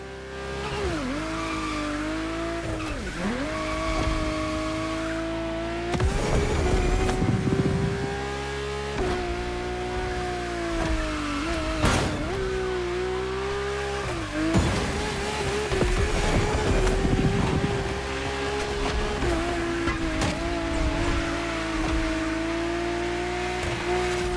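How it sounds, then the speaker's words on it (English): A powerful drift car in The Crew Motorfest video game roars continuously, its engine pitch climbing and dropping with gear changes and revs while tires squeal through slides, loud and close throughout with no talk. "Your drift car is powerful as hell."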